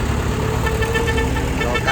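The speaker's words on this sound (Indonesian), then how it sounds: "rombongan truk pasar malam tiba" A convoy of trucks loaded with night market rides rolls into a new site at a Karangbener field, engines droning continuously with a horn toot over the traffic noise.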